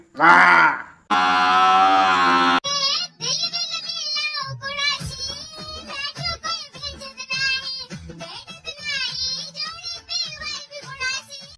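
A short, deep buffalo-like bellow stands out near the start, followed by a high, continuous singing voice.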